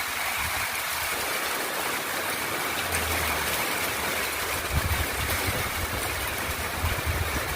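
Heavy rain pours around a house during a massive thunderstorm, a dense, unbroken roar of water that stays loud and steady throughout, with no one speaking.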